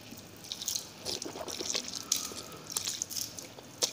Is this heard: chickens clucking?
no